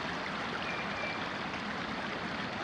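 A creek at Sherando Lake campground in Virginia's national forest rushes along in a steady, soft broadband wash of flowing water, continuous and unbroken, with no one talking.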